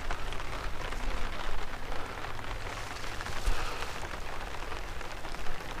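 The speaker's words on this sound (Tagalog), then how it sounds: "So to say, umuulan guys." Steady rain falls outdoors in Sagada, a dense patter of drops on surfaces all around. It is an even wash of noise with a few louder splashes, and no one talks.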